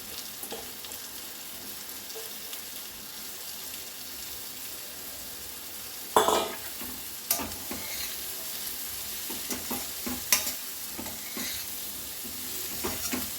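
Chopped cabbage is stirred into fried onions in a pan for a cabbage and moong dal curry: a faint, low sizzle, then from midway a few scraping stirs and clinks, quiet and close.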